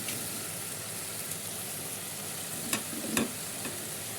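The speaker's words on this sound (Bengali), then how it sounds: "প্রথম ডালটারে কষাই নিচ্ছি হলুদ মরিচ দেওয়া হালকা হলুদ হালকা মরিচ দিয়ে আমরা কষাই নিচ্ছি" Lentils fry in a pan with turmeric and chili, giving a steady close sizzle broken by a few soft stirring scrapes, with no talk.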